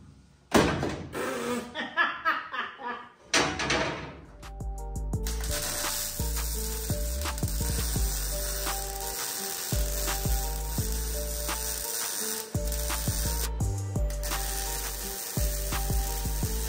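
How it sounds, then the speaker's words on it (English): Continuous crackling arc welding on the chassis of a 1967 Chevrolet Impala during a chassis swap, steady and close for most of the clip, with broad sputtering hiss and periodic brief pauses, after a few loose clanks of metal at the start. "we're gonna weld this, then we can weld this to this"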